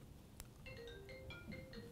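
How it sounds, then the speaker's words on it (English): A phone rings during a recorded interview, a quiet electronic ringtone playing a short repeating melody of bright tones after a single sharp click, faint and alone without talk. "that's the phone going, not my fault."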